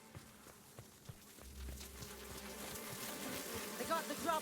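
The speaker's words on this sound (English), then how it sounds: "Yeah, I hear buzzing." An insect buzzes in The Outer Worlds video game, a faint wavering drone under quiet ambient noise and scattered soft clicks, growing slightly louder toward the end.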